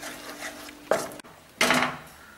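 Crumbled paneer is stirred in a pan for milk peda, giving two short scraping strokes of a spoon against the metal, close and fairly loud, with quiet pauses between.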